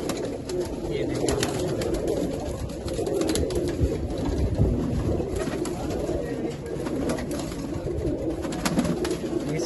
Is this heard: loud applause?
no